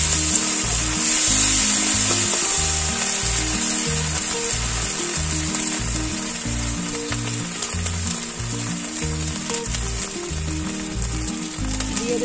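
Ginger and cumin paste frying and being stirred in a pan for Bengali lau chingri, a steady close sizzle with regular rhythmic scraping strokes throughout, no voices.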